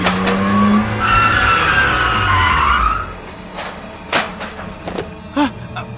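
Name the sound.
car speeding and skidding, sound effect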